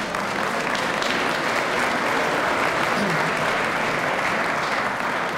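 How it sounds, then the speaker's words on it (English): An audience claps at the grand opening of a fire station, a dense, continuous round of applause that holds steady at full loudness for several seconds, with faint crowd murmur mixed in. "So if we could give them a round of applause"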